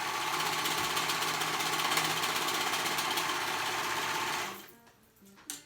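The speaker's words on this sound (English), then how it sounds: "or you can use your sewing machine for this" A sewing machine runs a continuous fast stitch through stretch fabric for a high-low skirt, a steady close whirring rattle for about four and a half seconds before stopping, followed by a brief faint clunk.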